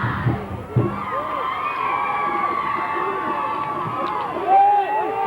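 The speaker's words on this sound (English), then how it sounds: "Big crowd on hand tonight." Crowd noise from packed stands at a 1982 high school football game between Westlake and Thousand Oaks, a steady broad murmur with scattered shouts and whistles under a commentator's voice.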